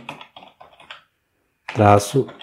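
Light clicking of computer keyboard keys typing a command on a Windows 10 PC, with brief rapid taps, followed by someone speaking Portuguese.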